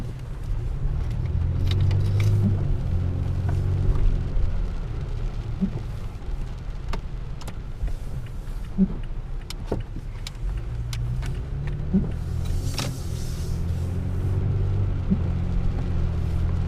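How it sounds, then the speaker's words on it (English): A 2016 Toyota Tacoma SR5 Double Cab 4X4 with a V6 drives along, heard from inside the cab as a steady low road and engine rumble with occasional small clicks and bumps, no talking. "so now for a little drive."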